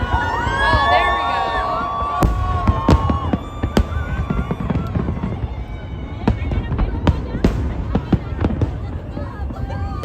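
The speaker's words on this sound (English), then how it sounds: "by 9, that was the first set of fireworks" New Year's Eve fireworks over Sydney, with repeated loud bangs and crackling bursts in an irregular barrage, set against a cheering, shouting crowd and music tones at the start.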